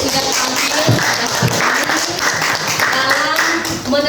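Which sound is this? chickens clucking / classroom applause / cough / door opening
classroom applause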